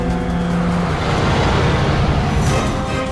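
A car is driven fast with loud engine roar and squealing tires, a continuous close rush of road noise that builds to a brief high hiss near the end.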